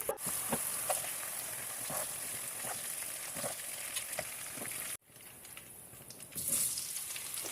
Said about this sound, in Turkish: Biberlerimi içine attım ve kızarmaya bıraktım.